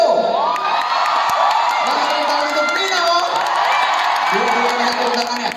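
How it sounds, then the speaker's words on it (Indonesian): A crowd at a TWICE fan meet and greet in Jakarta cheers, whoops and shouts in a loud, sustained wash of many voices that holds steady throughout; clapping is not distinct within the cheering. "coba kita mau lihat mana tepuk tangannya buat Gio!"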